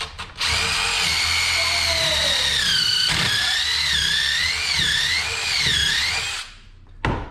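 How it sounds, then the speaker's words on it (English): A power drill bores a hole in a board, its motor whining steadily with a rising, wavering squeal for several seconds before it spins down and stops. "So let's get some holes drilled and see how this works."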